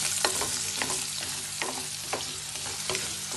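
Radishes sizzle and crackle as they fry in hot oil for a radish and green chilli pickle, a steady bubbling hiss with occasional stirring clinks, close and unbroken by any voice.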